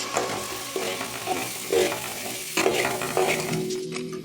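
Drained macaroni being stirred with pepper powder in a pan, several soft scraping strokes over a light sizzle, close and moderately loud.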